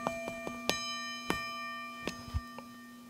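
A metal column from a Cincinnati No. 2 tool and cutter grinder rings like a bell when struck, with a long sustained metallic tone under several light taps and clinks.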